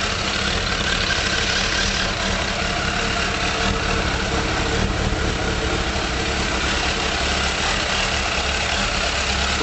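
A 2002 Suzuki GSX600F motorcycle fitted with 2006 carburetors idles steadily and close, a constant even engine drone with no talking.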